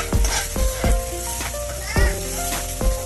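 Mexican fried rice sizzles and is stirred in a hot pan, with a spoon scraping in repeated strokes roughly every half second over a steady frying hiss. A voice sounds faintly in the background.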